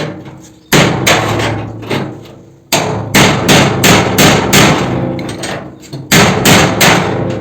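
A hammer repeatedly bangs on a padlock to break it off a music school's door: loud, sharp metallic blows in quick irregular bursts with short pauses, close by and with no talk.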